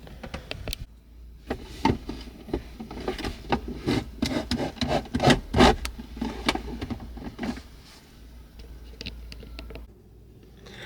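Plastic car armrest trim piece on a Toyota GR Corolla scraping and clicking as it is pushed into its guide rails, a run of close rubbing sounds that fades to quiet near the end.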